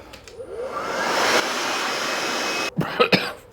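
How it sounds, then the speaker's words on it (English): An electric blower clearing loose dust from walls around electrical boxes after an old board was cut out spins up into a steady rushing whine, runs about a second, then cuts off, followed by coughing nearby. "We've got a blower here."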